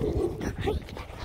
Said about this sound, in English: Can I pet the doggo?